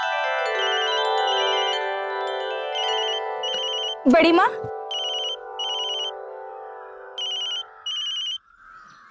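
Near and loud, a telephone rings with a repeating electronic ringtone in short regular bursts. A voice briefly calls out partway through, and the ringing carries on afterward.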